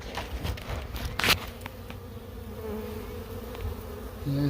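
A honey bee swarm buzzing close by, a dense insect hum with a few sharper passes of single bees near the microphone.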